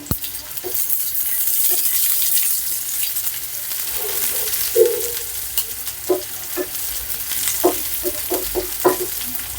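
Garlic fries in a pan toward golden, a steady bright sizzle with scattered spatula clicks and scrapes growing more frequent toward the end.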